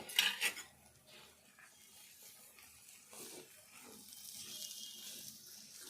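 Boiled potatoes being stirred into a green peas curry in a pan, with a spoon clattering and scraping against the metal, loud knocks at first and then softer steady stirring with a faint sizzle underneath.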